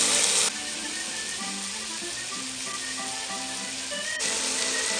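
Meat searing in a hot pan for a Toulouse cassoulet gives a steady, close sizzle and crackle with brief louder hissing bursts at the start and end, no voices.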